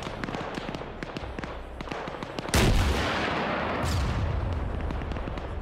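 In a Black Hawk Down video game, artillery and mortar fire pound a building, opening with sharp scattered gunshots and then a heavy close blast whose rumbling roar keeps going, with a second burst soon after.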